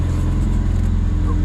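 A Vauxhall Corsa B Sport with the X16XE engine idles steadily up close, a constant low mechanical hum with no revving.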